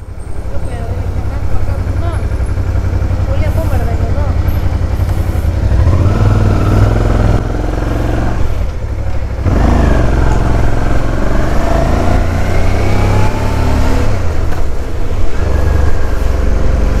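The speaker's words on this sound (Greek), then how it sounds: "Εδώ έχει μηχανάκια." Motorcycles ride along a street at night in Bologna, engines revving and rising in pitch as they accelerate past, loud and close, with someone speaking over them.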